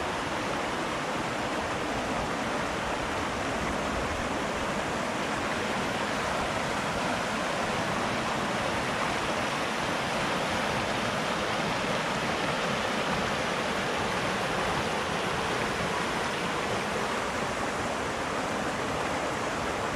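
Rushing water from a stream or waterfall at Kolåsen, a constant broadband roar with no breaks, loud and close, with no voices over it.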